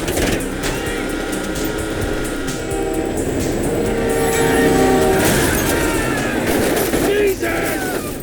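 A train rumbling past in the video game GTA 5 during a car chase at a roadblock, a loud continuous roar and clatter lasting several seconds, heavy and close, with shouting voices over it.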